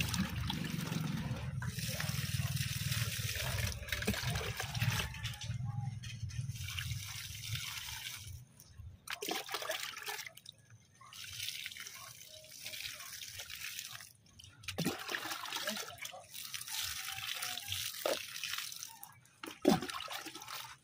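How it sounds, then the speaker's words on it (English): Water from a pail is poured onto newly planted calamansi in a cement box, giving a splashing, trickling pour in uneven bursts with pauses, close and fairly quiet. "I will water the newly planted calamansi."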